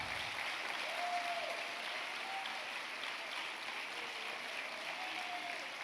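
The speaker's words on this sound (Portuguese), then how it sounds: "Aplauda, aplauda, aplauda." Worshippers in a church clap through a Christmas service, a continuous soft wash of crowd applause heard from a distance, with faint voices rising briefly above it.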